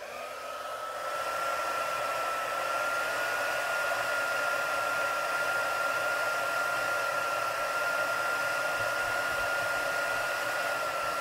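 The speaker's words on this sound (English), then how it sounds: "I'm going to take my trusty heat gun." A heat gun blows steadily, a constant whirring hiss with a high whine that starts up and holds at an even level.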